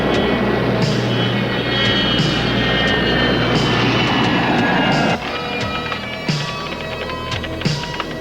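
A jet airplane departing from Dulles roars loudly and steadily with a whining engine tone, then the roar drops and shifts partway through as it continues, heard close and alone.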